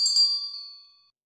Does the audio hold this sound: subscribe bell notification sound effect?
yes